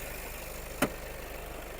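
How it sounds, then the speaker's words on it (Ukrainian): A 2018 Volkswagen Passat B8 Highline 4Motion engine idles with a steady low hum throughout, with one brief sharp click or knock partway through. "Автомобіль працює"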